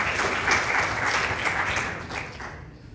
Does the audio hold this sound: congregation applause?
yes